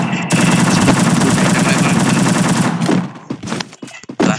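A P90 submachine gun fires in a mobile shooter game, a loud, rapid continuous burst for about three seconds that breaks off into a few scattered sharp shots.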